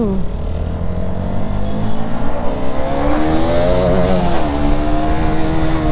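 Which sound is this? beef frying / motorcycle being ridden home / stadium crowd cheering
motorcycle being ridden home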